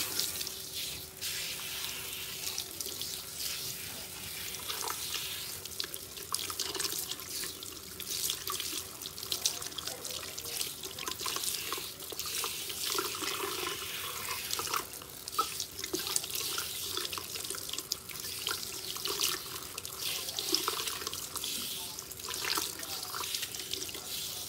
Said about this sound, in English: I started off by saturating my hair with some water, rinsing out some of that spritz.